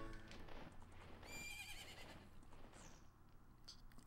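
A horse whinnies and gallops with rhythmic clip-clop hoofbeats in The Legend of Zelda: Ocarina of Time, game audio at low level with a rising neigh in the middle and steady hooves throughout.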